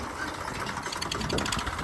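A tractor engine runs at a steady idle beside a working combine harvester in a field, with a continuous mechanical hum and rattle at moderate distance.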